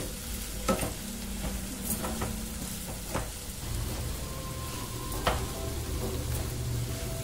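Mutton fry sizzles steadily in a pan, with crackles and occasional scraping stirs of a utensil punctuating the hiss.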